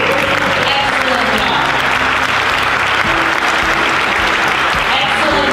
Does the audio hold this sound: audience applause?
yes